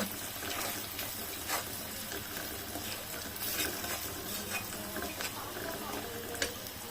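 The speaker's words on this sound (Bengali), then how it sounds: "এখন ভালো করে নেড়ে চেড়ে নেব।" Dried loitta fish stirred with turmeric powder and salt in a pan, giving quiet continuous scraping and shuffling with a faint wet sizzle underneath.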